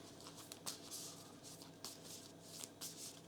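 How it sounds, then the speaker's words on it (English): A deck of cards for the Ashes Reborn card game is shuffled in soft, papery riffles and pats that repeat in short bursts, close and quiet, with no voice over them. "And we will now shuffle our deck."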